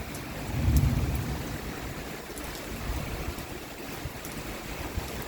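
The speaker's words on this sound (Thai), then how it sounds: "ฝนฟ้าพายุเข้านะคะ" Steady thunderstorm rain pours down with a low rumble like distant thunder, a continuous dense wash of noise with no voices.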